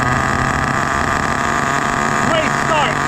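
A rebuilt HPI Savage Classic nitro RC truck engine running loud and close: a steady, high buzzing drone with strong even tones, holding level the whole time and rising slightly near the end.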